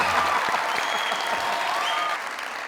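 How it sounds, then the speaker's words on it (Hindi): Applause from a comedy show's studio audience: dense, steady clapping throughout, loud and close, easing slightly near the end. "तालियां।"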